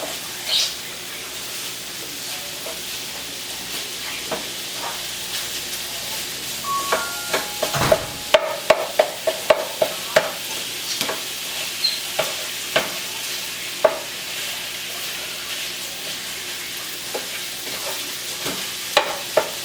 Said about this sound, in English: you're just going to chop it up just like that in your pan